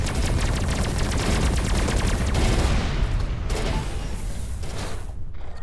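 Enemy ships firing during a space combat fight in the video game Everspace 2, a loud, dense stream of rapid rattling shots that continues throughout and thins slightly toward the end.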